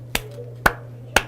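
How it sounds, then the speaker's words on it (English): Three sharp, evenly spaced hand claps ring out close and alone, beating a steady rhythm in a quiet classroom during a music lesson. "So when I clap in the rhythm, this is how it will go."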